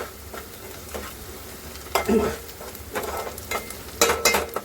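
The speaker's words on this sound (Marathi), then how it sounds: "कांदा टाकून चांगला फ्राय करूया." Onion fries in a pan with a steady sizzle close by, broken by several louder scraping stirs of a spoon.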